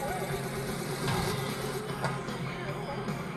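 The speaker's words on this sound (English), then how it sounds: "you can hear that motor running in the background." A pinball machine's internal motor hums and whirs continuously underneath dense machine noise and clatter, a steady low drone with no clear break.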